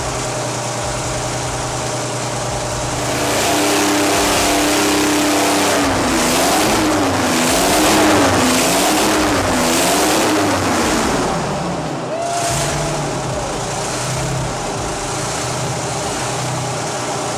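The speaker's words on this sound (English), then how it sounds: "This is peak Detroit diesel." A Detroit Diesel V-71 series heavy-duty diesel engine, the kind used in marine vessels, haul trucks and tractors, runs loud and steady, its revs rising and falling through the middle with no talking.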